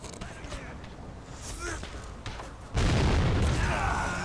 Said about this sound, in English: Oh, that explosion, though.